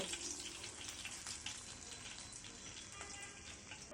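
Shorputi fish frying in hot oil, a continuous bright sizzle and crackle with scattered pops, close and fairly quiet, no voices.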